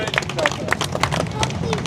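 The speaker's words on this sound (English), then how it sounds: "So round of applause for Expo." Applause from a live rally audience, steady dense clapping with crowd murmur throughout, fairly close and continuous for about two seconds.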